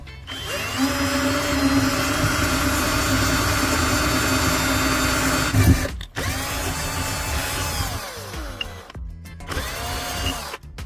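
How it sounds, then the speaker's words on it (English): A power drill bores into the tip of a metal fork, a loud steady whine with a strained, grinding edge that runs continuously for about six seconds, breaks off briefly, then resumes in a few shorter bursts. "Then, drill a hole right where you made the mark."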